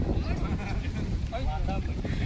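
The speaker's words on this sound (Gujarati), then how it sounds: "જોરદાર ઠંડો પવન આવ્યો" Strong cold wind gusts outdoors, buffeting the microphone with a dense, rough low roar over a couple of seconds, while a voice talks faintly in the background.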